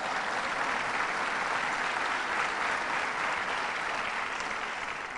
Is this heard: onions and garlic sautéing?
no